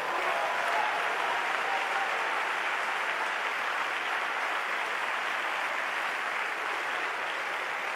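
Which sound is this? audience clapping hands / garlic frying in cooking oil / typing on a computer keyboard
audience clapping hands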